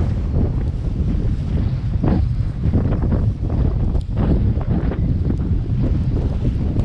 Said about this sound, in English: Looks like we got a little storm coming here.